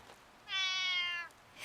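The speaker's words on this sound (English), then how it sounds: "just a cat" A cat meows once in the video game Re:Turn 2 Runaway, a single drawn-out, clear meow over a quiet ambient hum.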